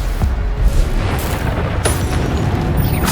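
Bombarda spell blasts from Hogwarts Legacy on PC, loud booming explosions with bursts and crackling debris rolling on continuously across the moment, no voices over them.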